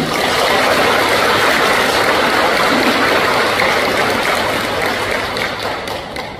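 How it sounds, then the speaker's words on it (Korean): A church congregation applauds together in a dense, sustained wash of clapping that holds steady for several seconds, then slowly fades. "우리 하나님 앞에 영광의 박수를 한번 올려드리겠습니다"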